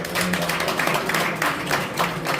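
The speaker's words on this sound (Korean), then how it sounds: "진심으로 감사의 박수 한번 부탁드립니다" Audience applause at a press conference in a Korean church general assembly hall, given in thanks to professors: a sustained patter of many hands clapping at an even level throughout.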